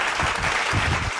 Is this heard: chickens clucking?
no